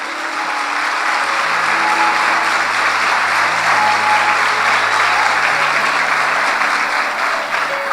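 Congregation clapping together during a church consecration service, a loud, dense and sustained burst of applause with held musical tones underneath and no break throughout.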